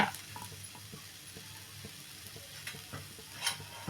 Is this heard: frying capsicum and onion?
yes